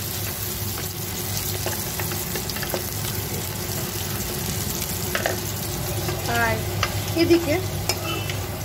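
Potatoes, aubergine and green chillies fry in a pan with steady sizzling and occasional stirring scrapes, close and continuous, with a few brief words spoken over it.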